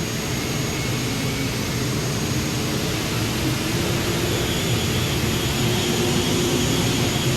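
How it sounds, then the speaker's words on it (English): Twin turbine engines on a modified pulling tractor at a 1998 NFMS tractor pull in Louisville, Kentucky, roar in a steady, loud, broadband whine with no break and no talk. "All right, both turbines are running."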